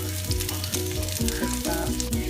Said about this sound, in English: So we go ahead and just let these cook for anywhere from like 3 to 5 minutes per side